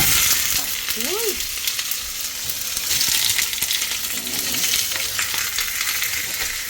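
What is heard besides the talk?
burger frying in a pan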